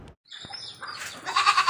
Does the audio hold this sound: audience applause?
no